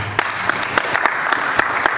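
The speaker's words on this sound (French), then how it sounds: "Sous vos applaudissements." An audience at a literary reading event applauds, close and fairly loud, with distinct individual claps over a continuous wash of clapping.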